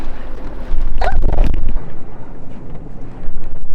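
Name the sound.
sailboat leaving harbor in wind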